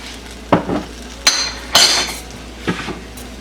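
Egg fried rice with chilled rice and soy sauce being stirred in a claypot or wok, with several sharp metallic scrapes and clinks of the utensil against the pan, spaced irregularly over a faint background hum.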